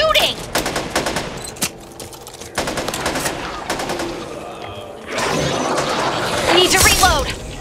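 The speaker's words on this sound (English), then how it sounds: "Watch where you're shooting!" Rapid automatic gunfire and blasts in the zombie shooter Back 4 Blood, bursts clustered through the first half and a louder chaotic barrage near the end, with shouted voices mixed in.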